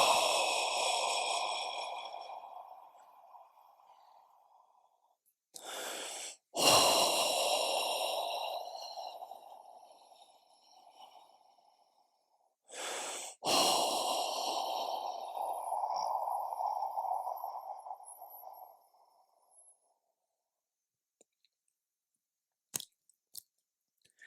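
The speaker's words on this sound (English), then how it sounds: "Take 3 deep breaths, sigh with relief." A group at a meditation retreat takes slow, deep breaths in unison, with several long, breathy exhalations and sighs of relief that swell and fade, separated by brief quiet pauses.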